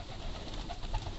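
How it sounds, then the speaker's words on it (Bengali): Pigeons coo on a rooftop pigeon farm at feeding time, low throaty calls repeating steadily over a constant wash of background noise. "প্রত্যেকটা কবুতরই আসতেছে এক এক করে"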